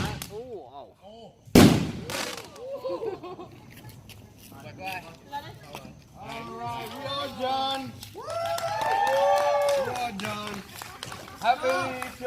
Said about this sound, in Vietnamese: Đốt pháo.